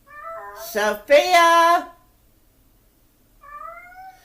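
A female cat yowls and meows loudly, calling for a male cat outside. Two long drawn-out cries come close together, then a fainter meow follows after a pause. A person calls out over the first cry.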